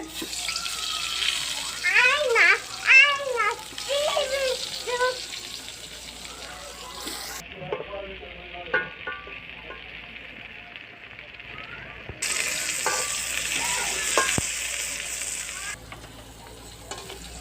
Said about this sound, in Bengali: বন্ধুরা আমরা এখন বেগুন ভেজে নিচ্ছি।